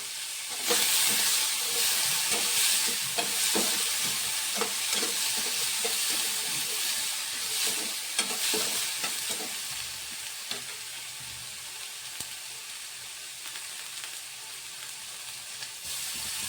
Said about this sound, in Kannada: ಈಗ ಟೊಮೆಟೊ ಚೆನ್ನಾಗಿ ಫ್ರೈ ಆಗೈತೆ ರೀ